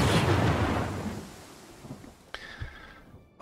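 Thunder from a lightning strike in the fantasy video game Pathfinder Kingmaker: a loud, close rumbling crash that slowly fades, followed by a sharp crack and a few faint distant rumbles, with no talk.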